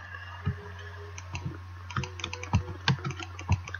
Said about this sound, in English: There's my keyboard.